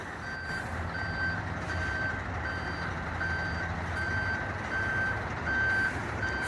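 A big truck reverses on a work site, its backup alarm beeping steadily about twice a second over a loud rumbling diesel engine.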